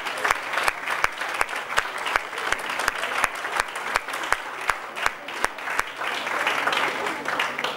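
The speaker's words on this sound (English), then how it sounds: "Please give a huge round of applause for ma'am." Audience applause at a college conference on biology, a steady dense patter of clapping across the whole stretch with a few sharper individual claps standing out.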